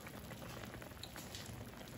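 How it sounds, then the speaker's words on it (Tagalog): Sinigang with salmon belly, thickened with taro, boils in a pot, giving a steady soft bubbling and simmering hiss throughout, close and even with no talking. "Ayan, kumukulo na siya."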